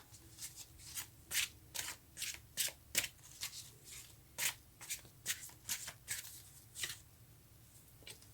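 Tarot cards are shuffled by hand in a quiet room, a series of about fifteen crisp riffling bursts in an irregular rhythm, close and clear with no voices.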